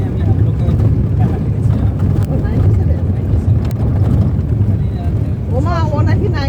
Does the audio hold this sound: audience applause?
no